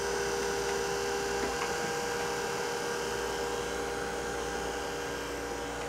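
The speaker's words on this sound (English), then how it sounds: "I have my ID grinder. Now when you grind a grinding cycle with this" Internal diameter grinder running a grinding cycle, a steady high-pitched whine and hum droning continuously at constant level throughout.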